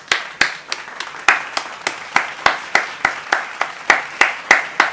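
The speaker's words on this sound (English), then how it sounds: "give a round of applause for yourselves." Sparse applause, a few hands clapping in an uneven, steady rhythm, each clap sharp and close, with no voices over it.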